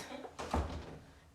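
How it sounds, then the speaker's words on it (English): A door is closed indoors, giving a single muffled thud with a short rustle around it, quiet and nearby. "Just close the door, please."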